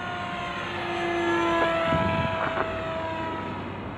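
An EZ-Star model airplane comes in to land, its electric motor a steady whine that swells slightly and then eases off, with no voices over it.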